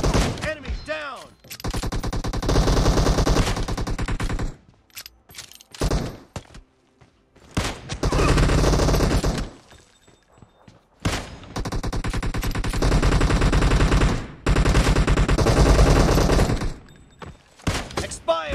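Rapid bursts of automatic gunfire from a PUBG Mobile deathmatch, loud and close, arriving in several dense volleys separated by short quiet gaps.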